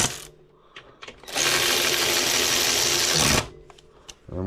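A power tool spins bolts into a 2005 Honda Silver Wing scooter in one loud, steady two-second whirring run, with faint clicks and handling noises before and after.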